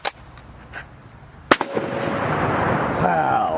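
A Mosin Nagant rifle fitted with a cheap eBay muzzle brake fires outdoors, loud sharp blasts with one big report followed by rolling echo and lingering noise.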